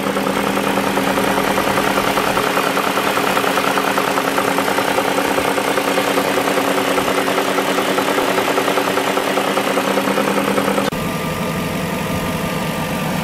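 A BMW M62 V8 idles with worn timing chain guides, a steady loud mechanical rattle and clatter running continuously before the tone shifts near the end.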